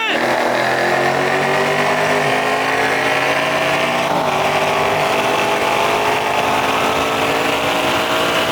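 A Ford Mustang Boss 302 and a stock Dodge Challenger SRT 392 race side by side, producing a loud, sustained engine roar that climbs in pitch, with faint distant voices underneath.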